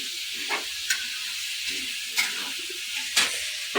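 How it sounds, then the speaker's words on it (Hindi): Oil sizzles steadily as vegetables are tempered, a continuous frying hiss with a few sharper crackles and spits popping up now and then. "मम्मी सब्जी छौंक रही हैं।"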